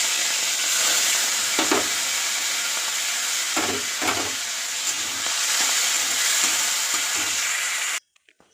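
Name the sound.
prawns frying in hot oil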